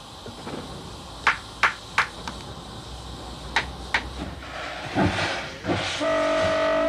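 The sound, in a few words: Liberation class locomotive train running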